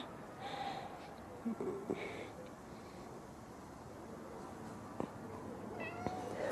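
A kitten gives several thin, high meows spaced over a few seconds against a quiet, hissy background.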